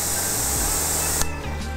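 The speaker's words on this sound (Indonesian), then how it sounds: "Atau kita kalau mau semprot atap mobil juga kan dia ke bawah" A Lakoni pressure washer sprays water onto a car, a loud steady hiss for most of the stretch that cuts off abruptly near the end, leaving a quieter tail.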